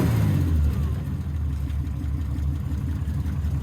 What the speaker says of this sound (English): Let me start up the engine for you.